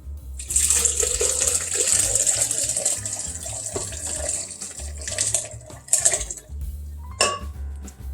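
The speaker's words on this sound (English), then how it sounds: "let's pour some of this into the blender." Pot roast cooking juices splash and pour into a blender with clinking of dishes and utensils, a continuous watery trickle broken by brief knocks near the end.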